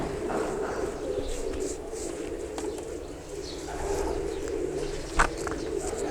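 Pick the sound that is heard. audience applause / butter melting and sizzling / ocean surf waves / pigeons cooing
pigeons cooing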